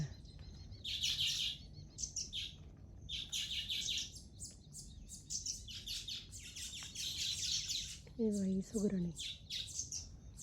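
Baya weaver birds chirping continuously at a farm, a dense chorus of high, rapid twittering calls, with a short voice sounding near the end.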